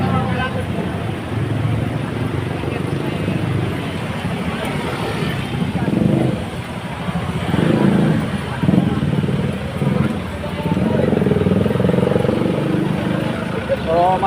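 Many motorcycles carrying Duterte supporters ride through Manila streets, a steady dense roar of engines and traffic with crowd hubbub and voices mixed throughout, swelling louder toward the end.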